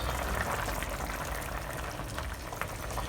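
Light soy sauce poured into a hot pan of simmering chicken stew gives a steady bubbling, sizzling liquid sound that stays moderately loud throughout, with no voices.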